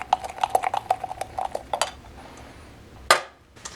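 A spoon clinks and scrapes rhythmically against a US military MRE pouch or container while vegetable lasagna is mixed, a quick run of light taps followed by a single sharper knock after a pause.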